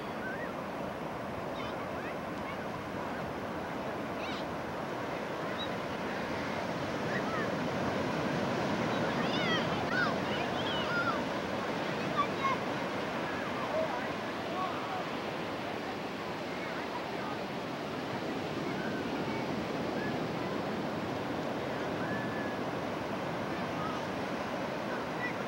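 Ocean surf washes onto a beach near a pier in steady, broad rushing noise, continuous and fairly loud with wind buffeting the microphone across the whole stretch.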